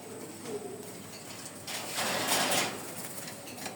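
A pigeon gives a soft, low coo close by against a hissy, noisy background, the call brief and partly buried beneath a broad wash of sound that swells midway.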